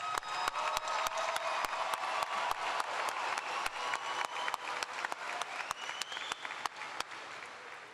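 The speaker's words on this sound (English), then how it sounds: "Let's give a heartfelt round of applause to these incredible graduates." Large commencement crowd applauds graduates in a big venue, a dense, continuous wash of clapping with sharp individual claps standing out near the microphone, faint cheers mixed in, sustained at an even level throughout.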